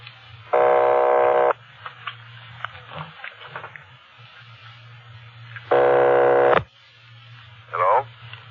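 Two loud buzzing telephone rings pulse about five seconds apart over a faint hum, with a short burst of distant voice-like sound after.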